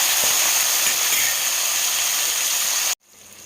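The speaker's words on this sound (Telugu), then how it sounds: "దీంట్లోనే టమాటా ముక్కలు ఇవి కొంచెం వేయించుకోవాలన్నమాట" Tomato pieces sizzle in a hot pan during cooking of an amla rasam, giving a loud, steady broadband hiss that carries on evenly and then cuts off abruptly near the end.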